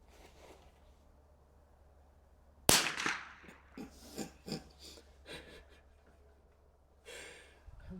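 A single sharp crack from a Weihrauch HW66 air rifle on an outdoor range, loud and close. Faint breathing and small rustles follow.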